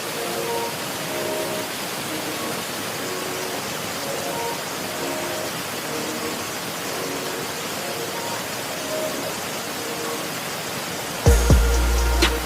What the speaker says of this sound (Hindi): और ये रहा हमारा पहला वाटरफॉल।